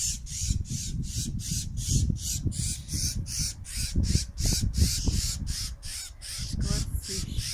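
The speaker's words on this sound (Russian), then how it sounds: "Скворцы." Starlings chatter and call in rapid, repeated bursts of harsh squawking notes, loud and close, while low rustling and handling sounds run underneath.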